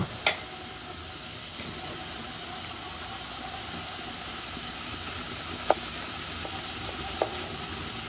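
Cumin, turmeric and chili powder fry in a pan for a chicken curry, giving a continuous soft sizzling hiss with a few sharp clinks from a utensil and no talk.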